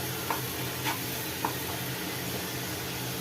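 Masala for Chennai-style vadakari sizzles steadily in a hot pan, a continuous frying hiss with a few light clinks of stirring, no voices.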